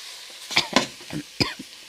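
Pork stir-fried in a pan for a Thai jungle curry, a few short scraping stirs and light sizzles, close and brief, with no talk.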